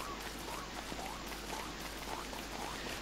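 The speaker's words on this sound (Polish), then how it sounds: "No teraz na razie się rozpadało." Steady rainfall in the video game Don't Starve makes a dense, even hiss that stays constant and moderately quiet throughout, with no talk over it.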